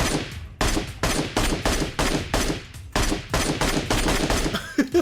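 Rapid bursts of automatic gunfire from the game PUBG Mobile crackle in quick succession, loud and close, with brief gaps between volleys and no talking.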